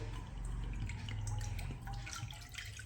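Water is poured into a wok in a village kitchen, a soft steady splashing and trickle with faint drips, close but quiet, with no speech.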